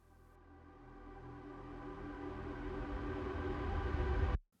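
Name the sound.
reversed atmosphere sound layer in FL Studio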